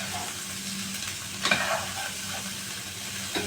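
Chicken feet hit a hot pan for adobo, giving a soft, steady sizzle with a brief louder crackle and scrape as they settle, then a quieter fry under a low kitchen hum.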